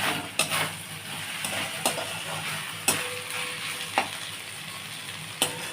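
Ghee sizzles in a pan of pulao cooked with jasmine flowers, a dense frying hiss punctuated by several sharp clinks and scrapes of a utensil against the pan, close-up and without speech.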